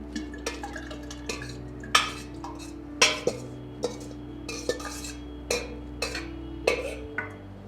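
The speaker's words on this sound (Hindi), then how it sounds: "इस प्रकार से हमने नीम के इसको डाला है, और एक बार इसको हिला देंगे अच्छा से।" A neem leaf and cow urine pest control mixture is stirred in a container, giving a close, irregular series of knocks and clinks as the stirrer strikes the sides, with no talk.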